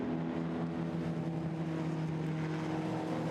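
Pre-war sports race cars, including a BMW 328 and a Bentley, racing at Silverstone, heard as a steady droning engine roar that holds level throughout without distinct pass-bys.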